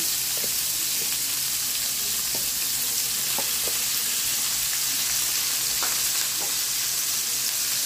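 Ground meat sautéing in a pan with onion, garlic and tomato, a dense continuous sizzle broken by occasional light clinks of a spoon stirring.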